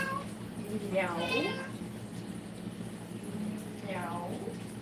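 A cat meows twice, the first call longer and rising and falling, a second shorter one near the end, fairly close over a steady low kitchen hum from pork sausage cooking.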